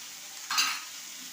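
Chopped green chillies with a pinch of salt hiss in hot oil in a pan, a brief burst of sizzling and stirring rising over a steady background hiss.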